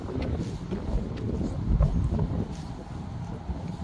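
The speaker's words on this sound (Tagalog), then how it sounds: "Today mahangin eh." Wind buffets the microphone outdoors on a cold autumn morning walk in Canada: a steady, low, gusting rumble that rises and falls throughout, with no talking.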